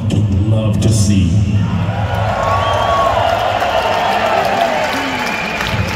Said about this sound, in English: This is a true metal crowd right here.